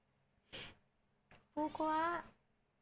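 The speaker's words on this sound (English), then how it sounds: "Sorry, that's my cat." A pet cat gives a single drawn-out meow close by, with a soft breathy noise and a faint click just before it, in a quiet room.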